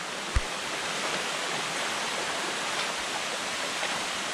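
Water rushes over solid rock at Fikong Falls in a constant broadband roar, close and steady, with one faint low thump near the start.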